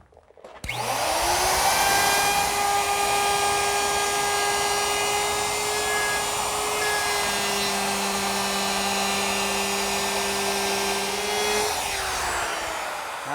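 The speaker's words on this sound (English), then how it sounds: "let's do the round over of 3 sides on the top and middle shelf. And for that, I've equipped the router with a 3/8 inch radius bit." A router fitted with a 3/8 inch radius bit rounds over the edges of a wooden shelf for a beveled glass cupboard, spinning up into a loud, steady high whine that holds for about twelve seconds and then winds down.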